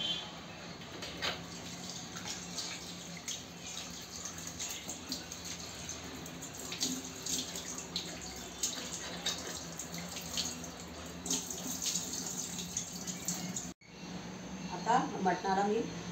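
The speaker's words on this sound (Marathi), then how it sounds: "आता मी हे मस्त स्वच्छ पाण्याने 2-3 पाण्यात आता धुवून घेते." Tap water runs steadily over raw mutton being washed in a vessel, a continuous splashing stream close by that cuts off briefly near the end before resuming with more clatter.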